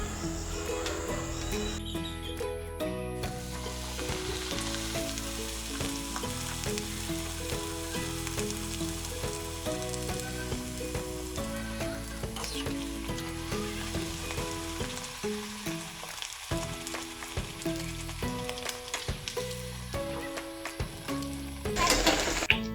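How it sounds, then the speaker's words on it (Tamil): Wheat masala puris fry in hot oil in a kadai, giving off a continuous crackling sizzle with bursts of bubbling as each one goes in, heard closely while background music plays. "இப்போ கடாயில் எண்ணெய் ஊற்றி வச்சுருக்க சூடான உடனே ஒவ்வொன்றா போட்டு எடுத்துக்கலாம்"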